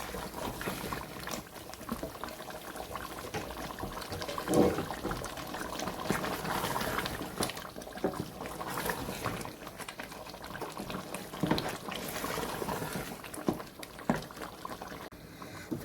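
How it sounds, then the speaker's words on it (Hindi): Water going into a pot of simmering beef paye curry makes a soft continuous bubbling and sizzling wash with small splashes, steady and moderately quiet throughout with no voices. "थोड़ा सा पानी हमने डाला है"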